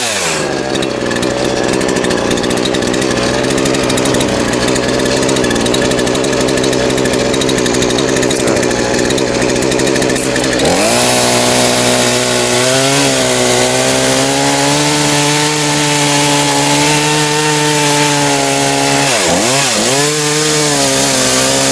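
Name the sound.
chainsaw cutting a fallen tree in a river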